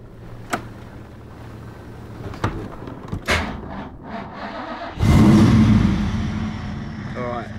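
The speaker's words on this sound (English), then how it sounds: "I'll show you by starting this car" A Holden Commodore VN SS with an oil pressure gauge problem starts up: after a few clunks and someone talking, the engine cranks and catches, then settles into a steady, fairly loud idle up close.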